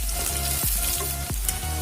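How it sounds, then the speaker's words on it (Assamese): Onions and a bay leaf fry in hot mustard oil, a steady close sizzle with a couple of brief stirring scrapes and no talk. "তেলখিনি গৰম হোৱাত মই পিঁয়াজ দিলোঁ। পিঁয়াজ দি আৰু এখিলা তেজপাত দি দিলোঁ।"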